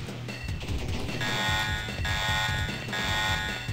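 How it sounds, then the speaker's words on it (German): Electronic alarm in the video game Crusader: No Remorse, a loud buzzing tone pulsing in repeated bursts about once per second and sounding alone. "Alarm! Eindringling!"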